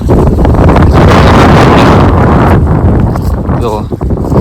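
Strong wind buffets the microphone in loud, roaring gusts, a heavy broadband rush that eases slightly toward the end, with a voice talking through it.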